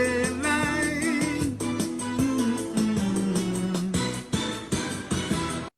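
A calypso recording plays, a sung melody over a bouncing rhythmic band with punchy bass and percussion, ending abruptly.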